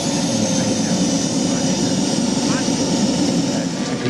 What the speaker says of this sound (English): Hawker Typhoon goes by.